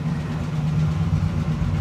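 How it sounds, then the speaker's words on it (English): A Triumph GT6 Mk2's six-cylinder engine drones in a steady low rumble inside a tunnel, deep and even without a break, with a boomy enclosed quality and no voices. "in this tunnel you can hear the rumble of the engine"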